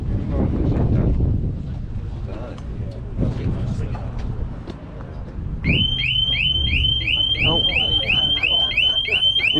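A motorbike's vehicle alarm starts partway through at a motorcycle gathering in West Sussex, sounding loud, rising, repeating whoops over gusty wind noise and muffled outdoor rumbling.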